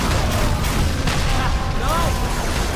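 Heavy booming blasts and gunfire from grenade explosions in a Halo 3 battle, loud and continuous, with voices shouting over the combat.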